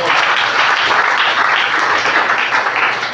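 Church congregation clapping, a dense, loud, continuous burst of many hands applauding together with no voices rising above it.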